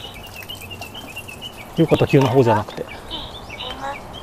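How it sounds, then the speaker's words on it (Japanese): Small birds on a wooded mountain road giving high, beeping piko-piko calls, faint and repeated in the background while a person speaks partway through. "ピコピコ、あ、鳥の声ですね。"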